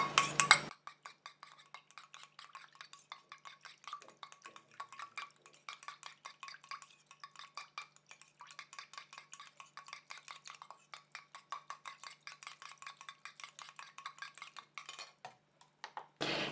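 Rapid, steady clinking of a utensil stirring a homemade hydrating, anti-aging face mist in a small container, a continuous run of light ringing taps with brief louder bursts at the start and end, no talking.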